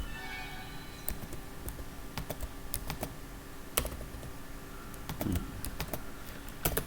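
Computer keyboard being typed on while code is written, giving irregular close clicks and key taps that run steadily throughout over a faint background hum.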